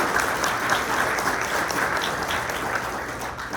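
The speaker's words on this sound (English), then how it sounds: "Let's hear a round of applause for all of them." A morning community event audience breaks into sustained, even applause, a dense wash of clapping from many hands throughout.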